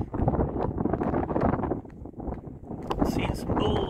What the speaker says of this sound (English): Just windy.